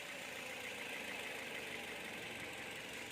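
A 2014 Toyota Vios engine with a clogged fuel filter runs at a steady idle, faint and distant, with an even mechanical hum and no voices.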